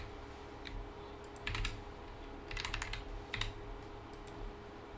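Someone types an email address on a computer keyboard, short bursts of close key clicks separated by brief pauses, with no speech.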